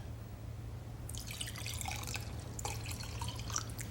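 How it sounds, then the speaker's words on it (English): Room-temperature water splashes into a glass in two short bursts of pouring and trickling, close and fairly quiet over a low steady hum. "Take 2 glasses, fill one with water that's room temperature,"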